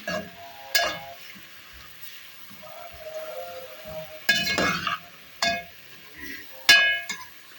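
Keema karela being stirred with green chillies in a pan gives scattered metallic clinks of a spoon against the pan, a few sharp knocks amid faint sizzling, fairly close and alone.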